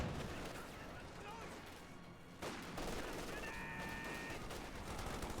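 Chaotic WWII strategy game battle with rapid gunfire, machine-gun bursts and a grenade thrown and exploding among infantry, a dense layered din of shots and blasts with a commentator talking over it.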